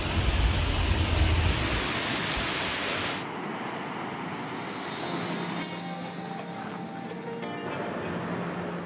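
Steady rain hisses across the scene in Portugal, heavier and more rumbling at first, then settling into an even patter with faint background hum.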